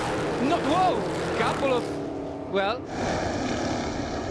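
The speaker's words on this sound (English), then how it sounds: "About to get going. Engine roaring. Green flag!" Race cars at a green flag restart of a NWES Elite 2 race at American SpeedFest, engines revving and rising in pitch as they accelerate, with a commentator talking over the roar.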